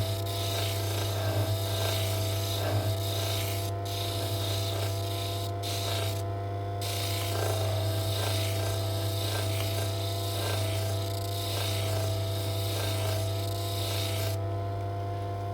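Opal rubbed against sandpaper, a steady close rasping scrape over a constant low hum, with brief pauses in the strokes.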